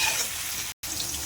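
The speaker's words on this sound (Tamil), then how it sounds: "வெங்காயம் பொன்னிறமாக வரட்டும், அது வரைக்கும் கொஞ்சம் நல்லா கலக்கலாம்" Onions frying in a pan and being stirred, a steady close sizzle with scraping broken by a brief moment of silence partway through.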